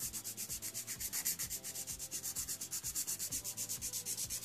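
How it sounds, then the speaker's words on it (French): A nail file shaping a stiletto nail tip, rapid rhythmic back-and-forth rasping strokes, close and even throughout with no voice. "vous prenez votre lime et vous faites comme ça"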